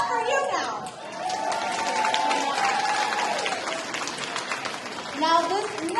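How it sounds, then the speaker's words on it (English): Audience applause at a spring recital staged as a Broadway-themed show, a steady wash of clapping mixed with children's voices and crowd chatter, a sustained tone running under it before it fades into talk. "An applause for you now."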